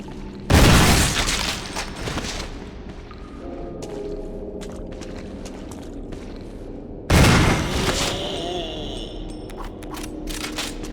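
Two loud gunshot blasts from a handgun or shotgun in Resident Evil (2002 remake), each a sharp broadband crack with a lingering echoing tail, about six seconds apart, with quiet ambient tones in between.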